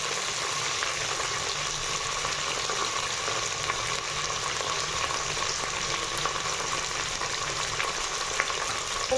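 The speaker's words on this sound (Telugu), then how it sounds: "పచ్చిమిర్చి వేసుకున్న తర్వాత బాగా కలపాలి. దీనిలో కొంచెం ఉల్లిపాయలు వేసుకోవాలి." Green chillies and onions frying and being stirred in a pan for a vegetable khichdi, a steady, even sizzle running throughout with faint scraping, no voices.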